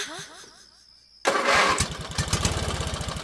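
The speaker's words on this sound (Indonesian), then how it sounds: "aku langsung menyalakan motorku" A motorcycle starts in a campus parking lot: after a quiet stretch with a voice, the engine catches abruptly and loudly, then settles into a close, rapid, throbbing idle.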